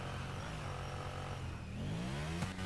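In GTA V Online, a kart's engine buzzes and revs with a rising whine toward the end, ending in a brief sharp burst as the exhaust throws a flame; steady, fairly faint, no talking.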